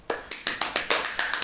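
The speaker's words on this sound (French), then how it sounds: "si on pouvait éviter d'applaudir aussi" A few people in a corporate meeting clap in a brief, sparse burst, about nine sharp, close claps in an uneven rhythm with no talk over them.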